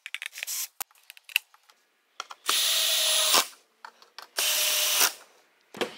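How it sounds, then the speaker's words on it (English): Screws are started by hand into holes in a hammer form holding a piece of aluminum, with short bursts of metallic scraping and clicking separated by quiet gaps, close and fairly soft. "Then I'll start these screws in the holes."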